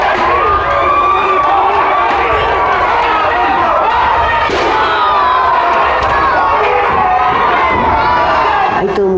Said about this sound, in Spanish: Todo el mundo grita, protesta, expresa su apoyo o su repudio a un luchador.